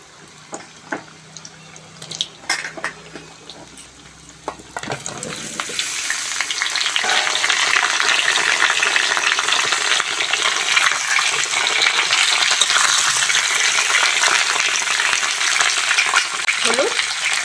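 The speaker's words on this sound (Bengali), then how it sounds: "আলু কষার জন্য প্রথমে আলুটা ভেজে নেব। সর্ষের তেল, কেটে ধুয়ে রাখা আলু দিয়ে দেবো।" Washed cut potatoes dropped into hot mustard oil, a few clatters followed by a loud, dense crackling sizzle that swells and holds steady close by, no voices.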